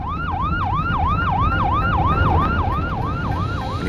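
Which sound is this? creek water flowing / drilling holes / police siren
police siren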